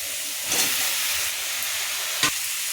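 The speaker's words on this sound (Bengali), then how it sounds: "আলুটা নেড়ে নিলাম।" Potatoes and onions fry in a pan with a constant bright sizzling hiss. Two louder scraping stirs cut through close up, one early and one near the end.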